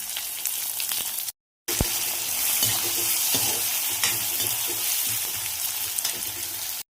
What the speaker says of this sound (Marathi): मी लगेच टोमॅटो टाकून घेते आणि टोमॅटो पण छान असं परतून घेते.